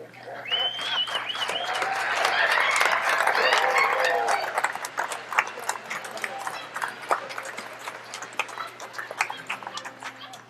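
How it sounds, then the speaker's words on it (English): Audience applause and cheering greet an Elvis impersonator at a Lions Club minstrel show, swelling to a loud roar with whoops, then thinning into scattered claps as voices continue. "Thank you for that warm applause"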